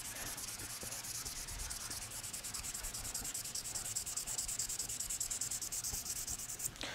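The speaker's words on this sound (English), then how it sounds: "left to right sanding" Soft, steady rasping of sandpaper rubbed back and forth in quick strokes against a small wooden object, close and quiet, with no talking.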